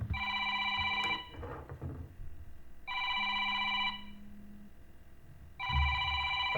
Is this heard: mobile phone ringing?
yes